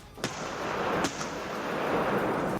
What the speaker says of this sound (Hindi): कई सैनिक तोप में गोले लोड करते नजर आए। वहीं जैसे ही तैयारी पूरी हुई, उन्होंने टारगेट पर ताबड़तोड़ हमले किए।